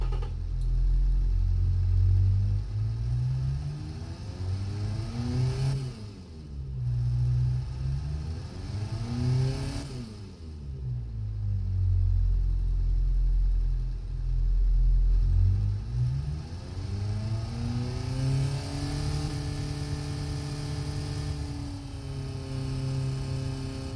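Simulated car engine in BeamNG, an affordable Japanese car with a tuned exhaust, revs up and down in repeated sweeping rises and falls, loud and close, with no talk over it.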